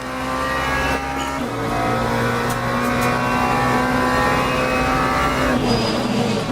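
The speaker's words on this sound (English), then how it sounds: "I can hear it spinning on the exit of the corners." Loud, steady racing-engine whine in a sim-racing video game, wheels spinning on corner exits and droning under acceleration, continuous throughout at close range.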